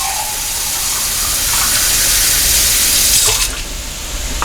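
Tap water pours steadily into an emptied soup can, a continuous rushing splash that stays close and fairly loud throughout.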